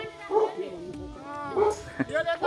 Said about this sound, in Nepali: यो कुकुर त त्यसले बाँध्दा छ कि छोडिन्छ?